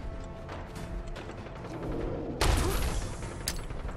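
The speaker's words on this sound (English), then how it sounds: "I hear gunfire, that might be helpful." Gunfire in the video game Fallout 4 crackles over a dense, noisy game soundscape, with a sharp louder blast partway through and another brief report shortly after.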